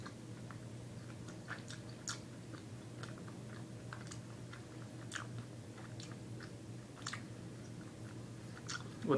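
Someone chews fried egg gummi candy from Vidal close to the mic, a steady run of soft, squishy bites and sticky smacks over a low background hum, with no talking.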